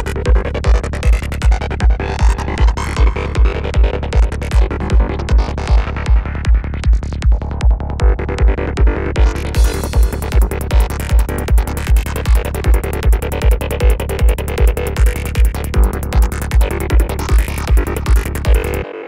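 The Massive synthesizer plays a bright FM-style tone over a steady, thumping electronic beat, repeating evenly and loudly throughout.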